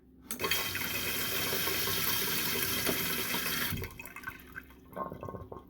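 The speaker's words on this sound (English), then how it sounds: "So my toilet here, the problem is that the fill valve keeps activating." Mansfield toilet fill valve refilling the tank, with a loud steady rush of water hissing for several seconds up close before it abruptly cuts off into quieter trickling and small clunks.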